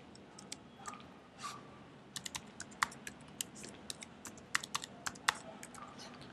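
Password keystrokes on a computer keyboard, a run of sharp, irregular clicks that starts sparse and grows denser, close and fairly quiet over faint room noise.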